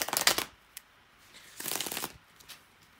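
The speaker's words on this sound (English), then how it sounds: "as soon as I'm done with the shuffling here, we are going to proceed with the reading itself" Deck of tarot cards being shuffled by hand, two quick bursts of riffling and flicking separated by a short pause, close and fairly soft, with no talk.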